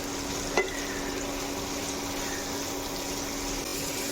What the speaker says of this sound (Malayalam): ഉള്ളിയും പച്ചമുളകും നമുക്കിതിലേക്ക് ചേർത്ത് കൊടുക്കാം ഇത് നല്ലതുപോലെ നമുക്കിത് വഴക്കിയെടുക്കാം